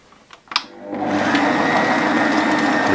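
Stand mixer with a paddle attachment working ciabatta dough, starting after a few light clinks and then running as a steady, loud motor whir with a rhythmic churning texture throughout.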